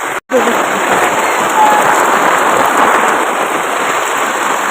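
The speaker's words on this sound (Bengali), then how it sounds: "দেখো কেমন জোরে বৃষ্টি হচ্ছে" Heavy storm rain pours onto a tin roof in a steady, loud, dense roar that does not let up, with no voices heard.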